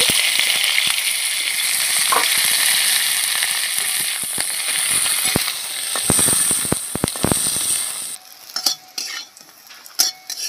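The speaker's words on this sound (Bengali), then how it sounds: "উচ্ছেগুলো ভেজে নিচ্ছি।" Bitter gourd pieces frying in oil for a Bengali shukto, a loud continuous close sizzle with scattered pops and utensil clinks, then a softer stretch of stirring and scraping at the end.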